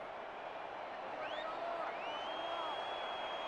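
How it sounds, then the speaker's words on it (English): A football video game stadium crowd at NordVPN Stadium roars in a steady, continuous wash of cheering, with a few faint whistles rising and sliding over the top throughout. "Listen to that crowd at NordVPN Stadium"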